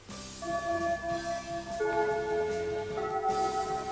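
School opening bell in an anime, layered sustained chiming tones ringing continuously with shifting pitches, steady and moderately loud with no talk.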